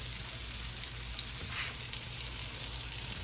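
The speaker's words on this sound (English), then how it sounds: "I want a good dark sear on them." Hamburger steaks searing in a hot pan for smothered hamburger steaks give off a loud, steady sizzle and crackle that holds evenly through the clip, with no talking.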